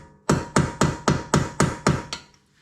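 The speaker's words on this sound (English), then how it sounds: "So I'm just giving this a few taps." A hammer taps a corroded stud on a Porsche 911 rear brake caliper: eight sharp metallic blows in an even, quick rhythm, close and loud, with no talking.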